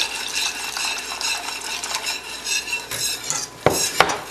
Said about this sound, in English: continue to whisk or stir your bechamel sauce